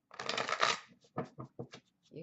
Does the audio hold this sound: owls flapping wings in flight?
no